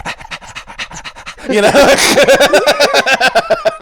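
A person imitates a thirsty dog panting with a rapid, rhythmic run of breathy huffs. The huffs grow louder and more voiced partway through, close to the microphone and with no other sound.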